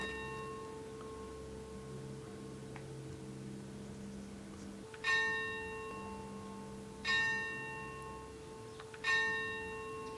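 Three loud, resonant strokes of a church bell ringing noon at steady intervals, each ringing out and decaying over a low hum and faint background noise.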